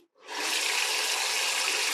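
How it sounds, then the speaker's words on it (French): Water gushes from an opened tap over hands, starting abruptly after a brief quiet moment and then flowing at a steady, loud, hissing rush to the end. "je passe mes mains sous l'eau"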